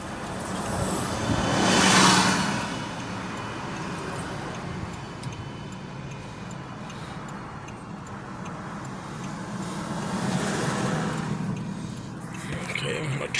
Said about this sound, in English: And here comes Mr. Bus.